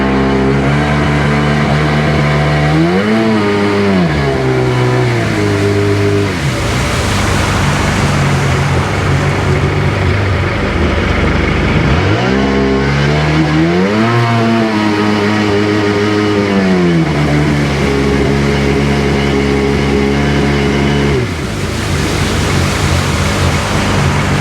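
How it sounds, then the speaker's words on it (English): A Sea-Doo GTX personal watercraft engine roars loud and close without pause, climbing twice to full RPM in rising revs before settling back to a steady drone. "it's going up to full RPM, so we know the raves are opening"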